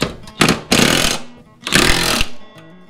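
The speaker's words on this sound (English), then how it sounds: "This is one of the rare opportunities that we use a battery-powered tool." A battery-powered impact tool fastens mower blades during a Cub Cadet mower tune-up, two loud close rattling bursts with a short hammering burst before them and brief pauses between.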